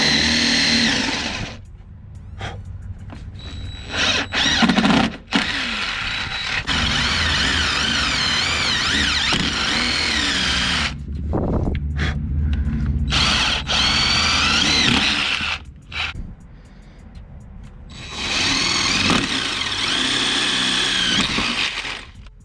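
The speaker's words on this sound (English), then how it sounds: "we're gonna drill some holes in this pinch weld here" A power drill whines in loud, sustained bursts with short pauses between them as it bores holes through the pinch weld of a 2003 Ford F-150 pickup, close up and without talking.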